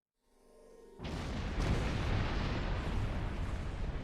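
Star Trek Online phase cannons open up with a rising whine that breaks into a dense, sustained roar of rapid energy blasts, loud and continuous, with no one talking.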